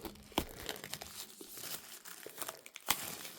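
Plastic shrink-wrap crinkles and tears as it is peeled off a 4K disc case of Hammer's Horror of Frankenstein, producing close, loud crackling with a couple of sharp rips and no voices.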